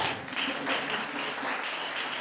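Applause from a group at a teachers' conference, a dense steady patter of clapping lasting a couple of seconds.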